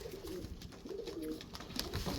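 A pigeon coos steadily at close range among kept loft pigeons, a low rolling murmur repeating through the whole moment over faint background hiss.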